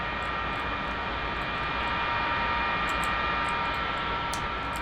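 F-4E jet engine spooling up in a DCS flight simulator cockpit, a steady loud whine and broadband roar that holds constant throughout with a faint hum beneath.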